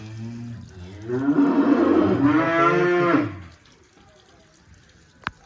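Cattle moo in long, loud calls at a farm in Yangiyo'l while being watered, one sustained bellow after another, followed by quiet and a brief sharp click near the end.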